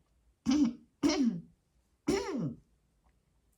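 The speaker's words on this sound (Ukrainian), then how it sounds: "Чуєте? От от кашлюють." Three short, throaty coughs sound in quick succession, the last slightly longer, each followed by quiet.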